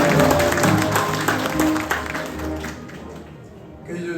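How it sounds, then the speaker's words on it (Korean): Audience clapping at the opening ceremony of a healing hospital rises over voices and a faint harmonic tone, then thins out in the last second. "박수 한번 부탁드립니다."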